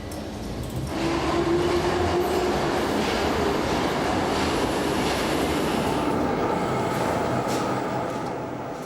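A Tokyo subway train rumbles steadily along the tracks, a loud continuous roar with faint wheel squeal and rattling, no voices.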